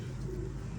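Kasur-breed pigeon held in the hand giving a brief, low, throaty coo, close and soft, lasting under a second.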